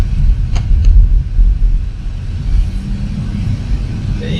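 A 2022 Kia Forte LXS compact sedan drives through a turn, with a steady low engine and road rumble inside the cabin, loud and continuous, and no voices.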